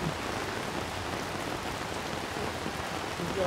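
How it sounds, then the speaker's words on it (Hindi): Steady rain falls outside a gym in Mumbai's Four Bungalows area, a dense, even hiss of drops that holds for the whole stretch with no voices. "बारिश कैसी करा रखी"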